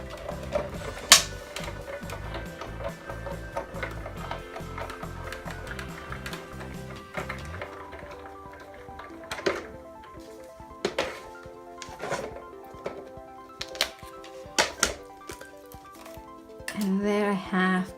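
A die-cutting machine presses a card panel with a die held by low-tack tape, giving a string of sharp close taps and clunks with mechanical whirring between them while music plays underneath.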